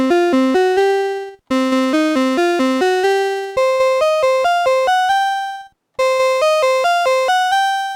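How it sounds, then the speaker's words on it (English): A Casio PT-82 mini keyboard plays its piano voice: bright, thin electronic notes in quick repeated phrases, each run of short staccato notes ending on a held tone, loud and close with brief silent gaps between phrases. "We start with a piano."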